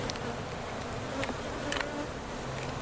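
A dense, continuous hum of honeybees buzzing around an open backyard hive in October, steady and close with no voices.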